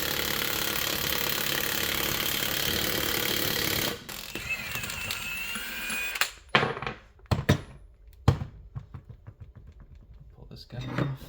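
An impact wrench spins a new lug nut onto an upgraded 9/16-inch wheel stud on a first-generation Cummins truck, a loud continuous rattle for several seconds, then sharp separate bursts and clanks with talk in between.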